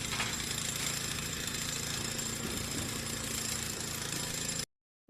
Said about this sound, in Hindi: ये देखो बच्चों, ये है जैक हैमर।